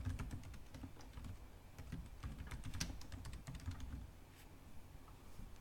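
Steady, rapid typing on a computer keyboard, a continuous stream of close key clicks at an even rhythm with no one talking.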